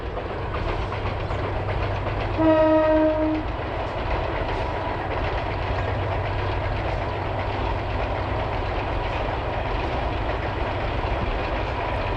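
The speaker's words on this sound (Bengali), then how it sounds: "আপনাদের সেই ট্রেন যাওয়ার ঝকঝকাঝক শব্দটি" A morning train passes through a foggy winter village in rural Bengal, its steady rumble and clickety-clack of wheels on rails running continuously, with a brief horn-like tone near the start.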